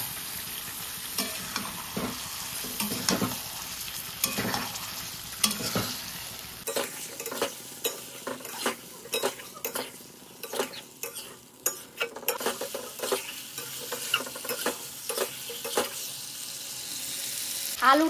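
Meat fries in a spiced masala with sizzling and frequent spoon scrapes against the pan, set over a softer hiss and a brief trickle of water, close and fairly quiet, with no talk.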